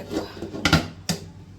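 A metal lid clatters onto a pot of cooked khichuri, two bright clanks close by, the second sharper, with a faint scrape of utensils before.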